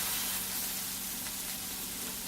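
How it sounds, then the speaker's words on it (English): A cheeseburger patty searing in a hot pan gives a steady, even hiss of sizzling that holds at one level through the short stretch, close and alone without speech. "let's give it a nice sear on the front side and let this cook for about 4 to 5 minutes"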